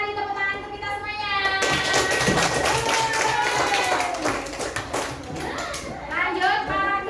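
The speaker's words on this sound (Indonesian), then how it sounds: "tepuk tangan untuk kita semuanya" A classroom of young children claps together after a teacher's prompt, bursting into a dense, steady round of applause over excited kids' chatter and voices that lasts several seconds.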